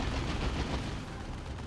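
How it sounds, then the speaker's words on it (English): A Fire Prism firing its spread shot in the video game Dawn of War 2: Retribution, a dense, loud, continuous battle roar of gunfire and blasts. "Fire Prism comes in with the spread shot, which has knockback"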